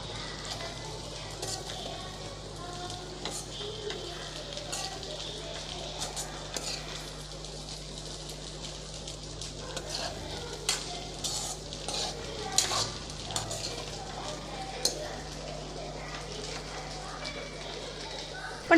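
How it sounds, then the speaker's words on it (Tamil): Tomato rice being stirred in a pan, a quiet, continuous scraping and soft clatter of a spoon with faint frying sizzle, intermittent sharper taps, no talk. "இப்போ நல்லா கலந்து விட்றலாம்."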